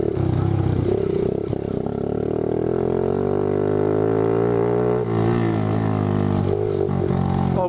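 A go-kart engine drones steadily at close range, pitch rising and falling slightly as the kart drives and bounces along, with rattling clatter mixed in.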